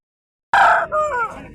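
A rooster at the Gudur poultry market gives one loud, close crow, a bright rising call that breaks into a wavering, drawn-out tail.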